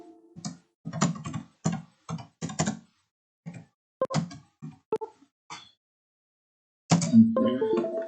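Characters being typed on a computer keyboard, a series of close, crisp key clicks in short bursts separated by pauses, ending in a denser flurry of keystrokes.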